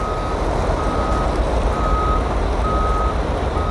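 A large truck reversing in early-morning Oman, its backup alarm sounding evenly spaced beeps over a loud, steady engine rumble close by, with no speech.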